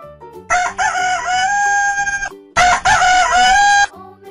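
A rooster crows twice, loud and close, each long, strained cock-a-doodle-doo separated by a brief pause.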